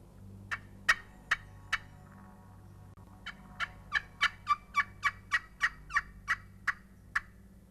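A wild turkey gobbles in the distance during a hunt, a steady series of about sixteen short, rattling calls spaced roughly evenly, faint over a low background hum.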